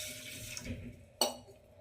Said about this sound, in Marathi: टोपामध्ये 1 ग्लास पाणी ओतून घ्यायचं